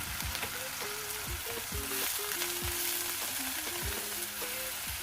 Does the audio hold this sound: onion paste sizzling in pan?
yes